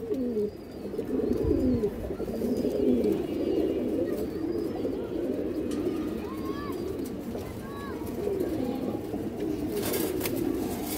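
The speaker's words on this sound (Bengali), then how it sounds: "এই যে মাদি কবুতরটা দেখেন" Pigeons in a loft coo steadily in low, overlapping throaty rolls, close and continuous, with a few brief higher chirps mixed in.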